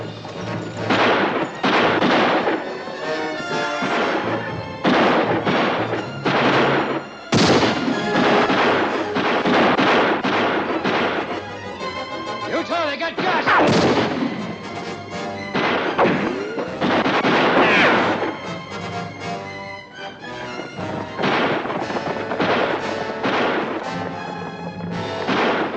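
Continuous gunfire from a shootout in a colorized western film, many sharp shots and booming reports cracking in quick irregular succession, loud and dense throughout.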